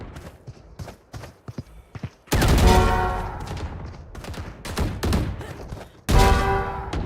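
Gunfire in the video game PUBG crackles in quick bursts, with sharp automatic volleys and a couple of heavier, sustained blasts of shots standing out against scattered smaller pops.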